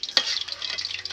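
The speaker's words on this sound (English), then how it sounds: "I'm frying these egg rolls, just like so." Chicken egg rolls frying in hot oil give off a soft, steady sizzle with light crackles and one sharper pop near the start, fairly quiet and heard alone.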